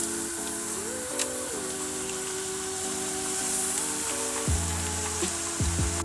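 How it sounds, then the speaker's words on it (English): Eggplant slices frying in hot oil, a steady close sizzle and crackle that holds throughout, with no talking. "and you fry them"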